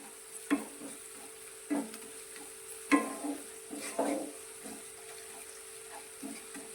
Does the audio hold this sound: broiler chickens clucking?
no